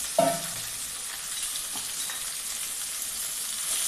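Dried fish and curry leaves sizzling in hot oil in a pan for a dried-fish gravy, a sharp burst as the fish goes in, then a steady hissing fry with occasional stirring scrapes.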